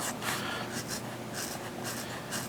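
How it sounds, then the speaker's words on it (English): Ganzo G727M knife blade shaving arm hair, a close, faint scratchy rasp repeating in short strokes over a steady background hiss. "Can I shave with it?"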